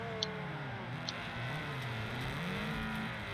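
Fiat 500 engine in the racing game Wreckfest 2, a low droning hum that rises and falls in pitch with light throttle, two faint ticks early on.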